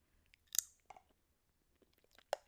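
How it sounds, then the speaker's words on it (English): Someone chewing a turkey burger up close, with quiet, sparse wet bites and a few sharper crunchy clicks scattered over a couple of seconds in near silence. "A soundbite of me eating a turkey burger."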